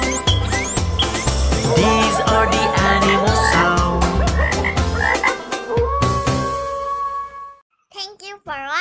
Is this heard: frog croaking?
yes